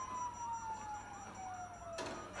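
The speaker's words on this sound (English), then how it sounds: "you hear that? Sirens." A wailing police siren in Grand Theft Auto V sweeps up and down steadily, fairly loud and close, with a sudden clattering burst near the end.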